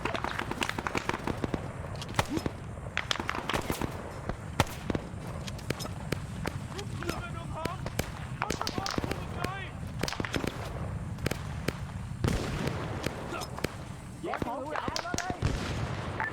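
Grenade and gunfire blasts in an Arma Zeus battle game op, dense sharp cracks and booms repeating rapidly and loudly throughout, with someone talking over the combat.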